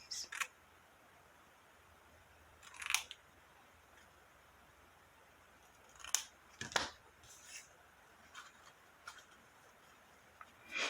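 Scissors snip the loose end off a length of packaging twine used for a rustic journal tag: a few sharp, quiet cuts spaced several seconds apart in an otherwise still room.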